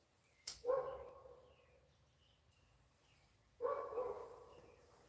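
Two sharp barks from a dog yapping outdoors on a cold mountain morning, each followed by a short tail, set against faint birdsong and a quiet background.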